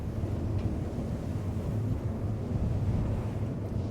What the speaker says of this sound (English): You find us on a really, really windy day here, which is fantastic for production.